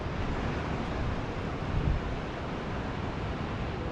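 Rushing river water churning with waves and carrying debris at Harpers Ferry, a steady broadband roar that stays loud and continuous with a slight swell near the middle, no voices.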